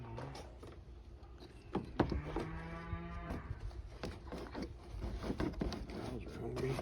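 Hungry cattle on a farm give one long, drawn-out moo at moderate distance, with people talking and light mechanical clatter around it.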